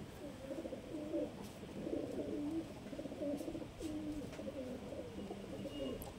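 A male Ambasira pigeon coos in a series of low, throaty phrases repeated steadily for several seconds, fairly close but soft, with no talking.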